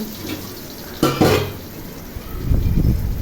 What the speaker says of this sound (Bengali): এই পটল বারবার করে নেড়ে ভেজে নিতে হবে